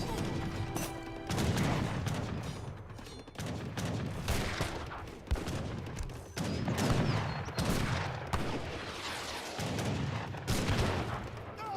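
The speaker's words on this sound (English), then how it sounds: "The organ guns do have the effects of the grape shot." Organ guns fire grape shot in the strategy game Age of Empires 3, sounding as repeated loud volleys of crackling gunfire, with bursts roughly every second or two amid battle noise over the whole stretch.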